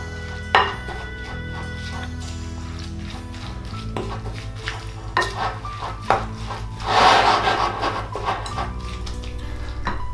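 A bowl of oat omelette batter with chili and pepper gets stirred, the utensil scraping and tapping against the bowl in uneven strokes beneath steady background music.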